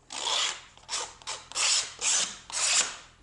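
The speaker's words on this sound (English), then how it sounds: "that sharp putty knife actually does bevel that edge just slightly." A sharp putty knife rasps along the edge of Formica laminate in about six distinct scraping strokes, close and fairly loud, each a bright gritty burst separated by short gaps.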